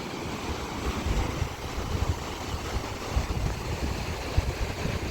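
Steady broadband wash of Mediterranean surf rolling in at Side, Turkey, with wind buffeting the microphone and no clear breaks between waves.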